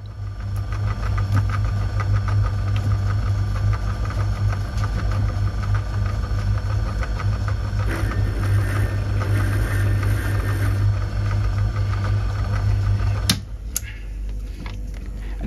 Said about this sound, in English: I'm just going to chamfer the edge of the nut here.